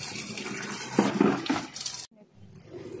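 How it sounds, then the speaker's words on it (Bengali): Water runs from a tap as note greens (amaranth leaves) are washed at home, a steady splashing flow for two seconds that stops abruptly, followed by a few faint drips and clatters. "নোটে শাক ধোয়া হচ্ছে।"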